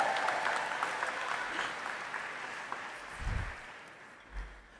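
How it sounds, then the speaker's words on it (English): Applause from a large convention crowd at the 2023 NEA Representative Assembly, a broad steady wash of clapping that gradually thins out toward the end, with a few low thumps near the close. "Let's give her a round of applause."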